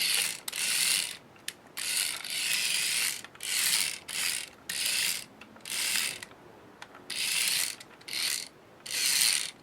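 A Zip Zips micro RC monster truck, Bigfoot, whirs its small gearbox in reverse, a high buzzing whine in repeated bursts of about half a second to a second with short pauses between, fairly close and alone.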